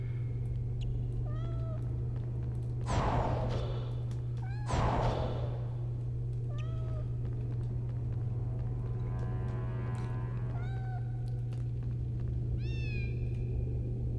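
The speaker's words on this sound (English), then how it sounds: "She's such a cute little kitty." A cat in the Harry Potter and the Sorcerer's Stone PS1 video game, meowing repeatedly in short, rising mews over a steady low hum, with two louder sweeping game sounds mixed in.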